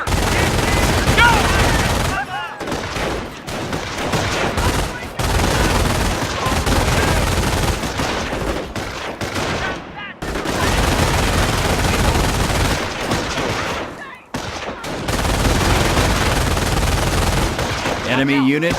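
Heavy gunfire in the Company of Heroes World War II game during a Normandy beach assault: dense, continuous rattling machine-gun and rifle fire with explosions, loud and sustained, broken by a few short gaps.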